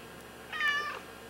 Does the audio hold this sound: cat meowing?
yes